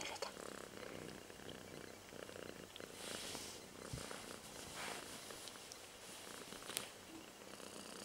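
A domestic cat purrs softly and steadily indoors, a low continuous rumble that stays faint throughout, with light background noise and occasional small sounds.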